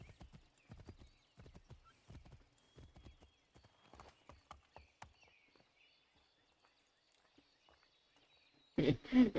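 Horse hooves clip-clop in a rhythmic run of distinct, close strikes in Assassin's Creed III, slowing and fading midway before a louder burst of sound at the end.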